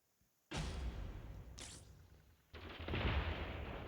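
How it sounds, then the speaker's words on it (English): Shotguns fire in an arena of the Gladiabots robot strategy video game. A loud blast hits, then a short whooshing shot follows, then another heavy burst sustains as noisy gunfire with no talking. "Now the shotguns get traded in the center of the arena"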